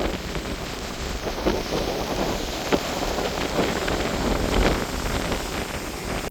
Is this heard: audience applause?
no